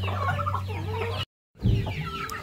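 Several chickens cluck close by, with a brief dropout midway before the clucking resumes.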